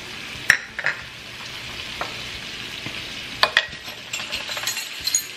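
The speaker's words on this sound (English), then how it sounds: "So we're just gonna saute this lightly." Ingredients for a lemon butter caper sauce sautéing lightly in a pan: a steady soft sizzle with occasional sharp clinks of a utensil against the pan, close and moderately quiet.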